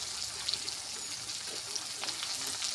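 Chopped onion, crushed garlic and cumin frying in a pan, a dense, even sizzle held steady throughout with faint stirring, close and alone.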